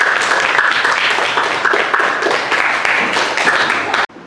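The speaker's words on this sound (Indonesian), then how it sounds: "Oke, tepuk tangan untuk Zaki." Classroom applause for a student named Zaki, energetic close clapping from a group of schoolchildren with some excited voices mixed in, cutting off abruptly near the end.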